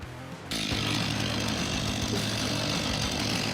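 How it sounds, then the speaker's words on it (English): A chainsaw cutting through massive tree trunks during logging bursts in abruptly after a quiet start and holds a loud, continuous buzzing roar. "Chainsaws play a crucial role in logging operations, cutting through massive tree trunks with precision and power."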